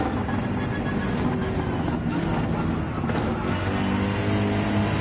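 A racing car's engine drones steadily through a Gran Turismo 7 race at Watkins Glen, the note shifting slightly as the throttle comes back on out of a chicane, loud and continuous for the whole stretch.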